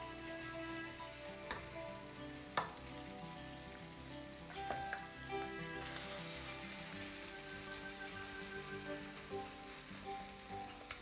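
Horse mackerel tortilla frying in a Teflon pan, a steady dense sizzle and crackle with a few sharper pops, close and continuous with no voices.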